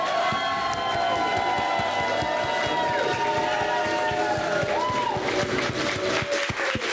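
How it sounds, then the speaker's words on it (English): Applause and cheering from a crowd at a get-together, steady and dense throughout, with sharp individual claps standing out against a bright, busy background. "and huge round of applause!"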